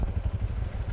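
Motorcycles idle and rumble close by, a steady low engine throb with a slight rhythmic pulse and no voices.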